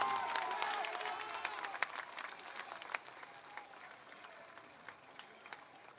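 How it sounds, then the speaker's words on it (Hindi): A crowd at a political party launch applauds steadily, the clapping fading gradually into scattered claps, fairly distant and without talk. "जोरदार ताली बजाइए"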